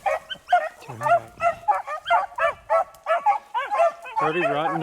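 Beagles hunting rabbits in West Virginia bay and yip in a rapid, repeated chorus of short barks, some whining notes mixed in, ending in overlapping baying from more than one dog.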